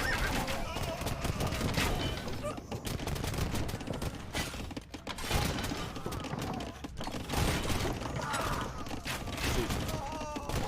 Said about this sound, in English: There's so many bombard cannons. And he's targeting the castle. The castle is just getting shredded over here.